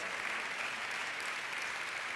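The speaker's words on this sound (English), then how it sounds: "Thanks for the applause." Audience applause at a tech conference keynote, an even, continuous patter of clapping from a large crowd heard at moderate distance, steady throughout.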